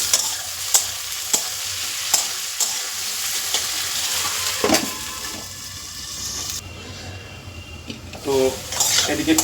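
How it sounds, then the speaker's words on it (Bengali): Taro and onion frying in a pan, a steady sizzle broken by repeated scrapes and clinks of a stirring utensil against the pan, close by, with a louder clatter toward the end. "কচু আর পেঁয়াজ খুব ভালো করে ভাজা হয়ে গেছে"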